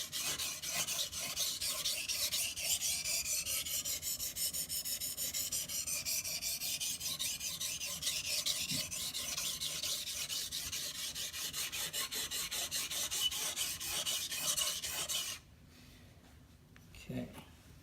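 A blade is stroked back and forth on a coarse Shapton glass whetstone, giving a steady, loud, close gritty rasping that runs continuously, then stops abruptly near the end, leaving quiet room sound with a brief knock.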